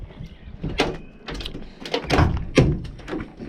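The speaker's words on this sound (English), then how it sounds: "Got the doors." Several heavy doors at a gate being handled and opened, a run of clunks, thuds and sliding knocks at close range, with faint background noise and no talk.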